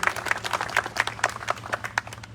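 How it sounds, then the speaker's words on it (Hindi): An audience claps for Maan Sahab at an IMC team gathering, a lively burst of quick, sharp handclaps lasting a couple of seconds with no talking over it. "मैं चाहूंगा मान साहब के लिए एक बार जबरदस्त ताली बजना चाहिए।"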